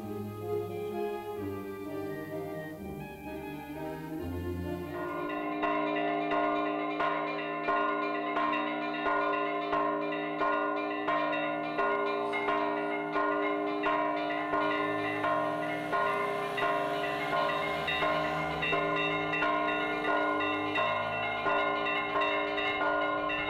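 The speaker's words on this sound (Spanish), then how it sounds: "Son las 12 y los vivos abandonan el panteón al escuchar las campanadas" Church bells toll at noon after a Day of the Dead cemetery ritual in Santa Catarina, with steady, rhythmic strikes ringing loud and layered over a continuous ringing hum.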